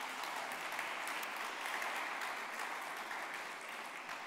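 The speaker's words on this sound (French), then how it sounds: "applaudissez-la s'il vous plaît" Steady applause from a conference audience at a round-table event, a dense even wash of clapping, moderately distant and fairly quiet, continuing throughout without a break.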